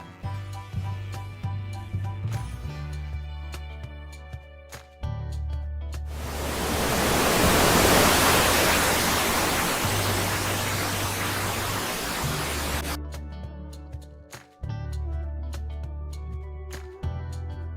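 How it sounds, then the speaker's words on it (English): A waterfall's steady broadband roar swells in around six seconds, holds loud and continuous for about seven seconds, then cuts off, with tonal music playing before and after. "Yes, it's a waterfalls."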